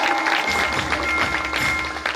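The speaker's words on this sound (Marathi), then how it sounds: "सर्वांनी जोरदार टाळ्या वाजवून सन्माननीय साहेबांचं स्वागत करा." An audience at a Vishwakarma Jayanti festival and community gathering in Shirpur, Washim, claps in sustained, dense applause to welcome an honoured guest, loud and unbroken for the whole stretch.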